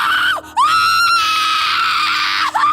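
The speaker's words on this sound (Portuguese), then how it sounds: "O grito de Laura foi cortado de imediato assim que o tijolo acertou seu rosto" A woman lets out a long, loud, high-pitched scream, alone, broken by a brief gap near the start and cut off sharply at the end, then resuming.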